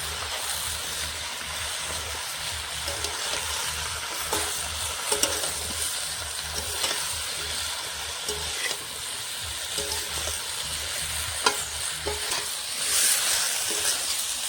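Spinach frying in a pan with salt and being stirred, giving a steady, close sizzle with scraping and clicking stir sounds throughout, and no talking.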